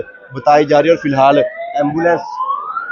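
Ambulance siren wailing at a civil defence mock drill in Karnal, a steady rising tone running beneath a man's close, continuous talk.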